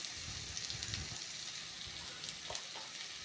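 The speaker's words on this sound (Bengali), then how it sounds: "পেঁয়াজ টমেটো অনেকটাই হালকা ব্রাউন কালার রং ধরেছে, অনেকটাই ভাজা ভাজা হয়ে এসেছে" Onion and tomato, already turning light brown, fry in a pan with a steady soft sizzle, close and quiet, with a few scraping stir sounds and no talking.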